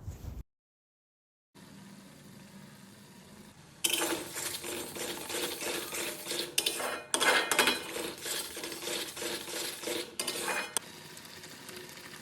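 A spoon works spice masala of pepper, coriander and Kashmiri chili for egg curry in a pan, scraping and clattering steadily and close after a brief silence, with no talk.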